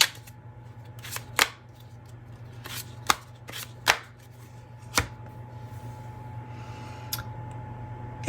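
An oracle card deck being shuffled by hand: close, soft papery riffles and sharp card snaps in irregular bursts over a quiet hum, with no talk.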